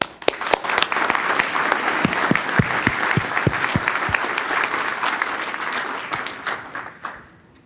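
Sustained audience applause after a conference panel session on ocean data user case studies, a dense wash of many hands clapping steadily for about seven seconds, loud and close, then tapering off quickly at the end.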